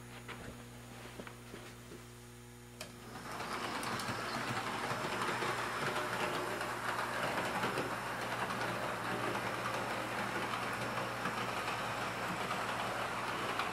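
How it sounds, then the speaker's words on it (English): A model train runs on a DC reversing shuttle track, starting after a quiet stretch into a steady, close rolling rumble and whir of wheels on rails that continues evenly without pause. "that train will keep running until it goes across that gap in the track where the diode is"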